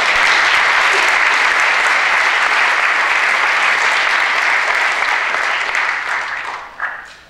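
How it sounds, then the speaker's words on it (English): An audience at the Oak Bay all-candidates meeting bursts into loud, sustained applause for the mayoral and council candidates, a thick, even roar of clapping that tapers off near the end. "Now you may wildly applaud."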